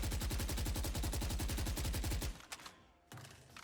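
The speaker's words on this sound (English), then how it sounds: "If I shoot here at the wall" Rapid automatic rifle fire into a wall in Valorant, a loud, fast, steady burst of shots for about two seconds, then abrupt silence broken by faint mechanical clicks and shuffling.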